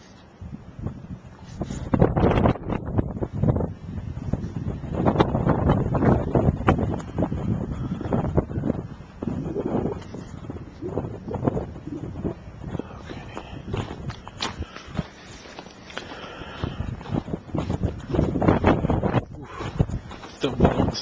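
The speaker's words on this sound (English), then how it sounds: "Still blowing snow. There's a blizzard, so it's a cold wind." Gusts of cold blizzard wind drive blowing snow along snowbanks in a neighborhood, buffeting the microphone in loud, uneven bursts mixed with crunching steps.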